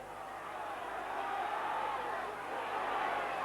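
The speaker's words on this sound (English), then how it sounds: "the crowd going absolutely berserk about that" A football crowd roars angrily after a trip: a steady, loud mass of jeering voices that holds unbroken throughout, with no single voice standing out.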